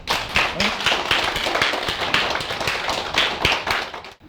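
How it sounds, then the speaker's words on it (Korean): An audience at a Buddhist temple dharma talk in Busan applauds, many hands clapping steadily and fairly loudly for about four seconds, with no voices. "그 박수도 한번 치네."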